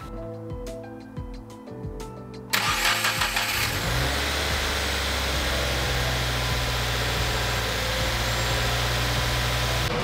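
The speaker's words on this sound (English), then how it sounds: "Last thing we gotta do is just turn the car on, let it run for a little bit." A Subaru WRX cranks with a few rhythmic starter whirs, catches and fires into a loud, close engine that settles to a steady idle for the remaining seconds.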